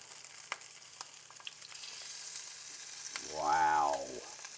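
Jerk salmon burgers frying in a pan give off a steady faint sizzle with light scraping as they are turned, then a brief swelling hiss near the end.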